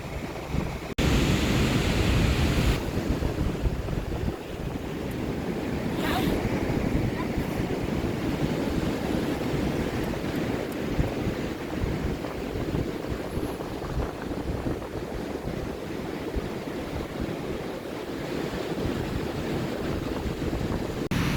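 Continuous wind buffets the microphone with a loud low rumble at a Ghana seaside where people bathe, over what sounds like surf or open water, steady throughout with no clear talk.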